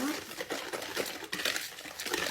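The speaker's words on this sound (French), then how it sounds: "Vous mettez le fouet. Voilà, ça serait mieux. Donc, vous mélangez tout ça." A whisk clatters and scrapes against a bowl as a brown sugar mixture is stirred, with quick irregular metallic taps and swishes close by.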